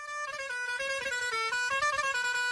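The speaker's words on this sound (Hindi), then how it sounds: "जब कोई गाड़ी हॉर्न बजाते हुए स्पीड में तुम्हारे पास आती है तो तुम्हें हॉर्न की" A high-pitched car horn sounds continuously as the speeding car approaches, loud and close, its steady tone gliding slightly in pitch.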